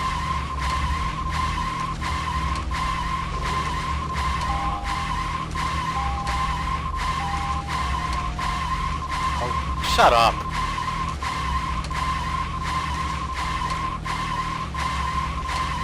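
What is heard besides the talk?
car driving and skidding noise in the video game Deadly Premonition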